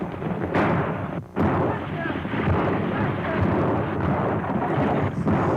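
Gunfire effects in a stagecoach attack scene from an old Western serial: a dense, rumbling barrage of shots that runs loud and almost unbroken, with one brief lull early on.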